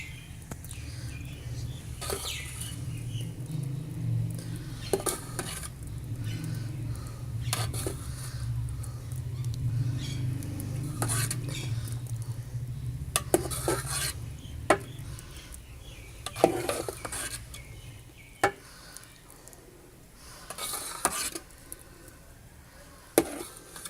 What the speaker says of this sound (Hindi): अब मैं इसे ऐसे बाउल में डालूंगी और इसे गार्निश करूंगी